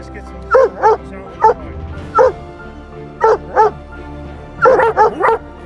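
Hunting dogs bay at a treed mountain lion in the Wyoming mountains, loud bursts of two or three barks in uneven clusters with short pauses between, some yips mixed in and a low background rumble.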